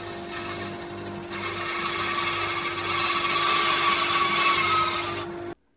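A saw on a cross-cut sled slices through wood: the motor hums steadily, then a louder rasping cut lasts several seconds before the saw stops abruptly, close up with no talking.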